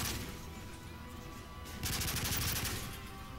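Sustained automatic gunfire in the Call of Duty Modern Warfare 3 mission Hunter Killer, a continuous loud rattle that swells into a denser burst of shots midway over a background of game ambience.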